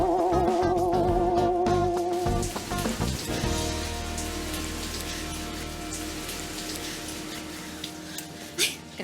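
Heavy rain pours down in a steady hiss as it hits surfaces, while music fades out early and the sound settles into a constant wash. A brief sharp noise comes near the end.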